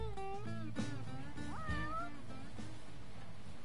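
A stray cat meows repeatedly in Yakuza 6: The Song of Life, a run of close, clear mews with rising and falling pitch over a soft background hum.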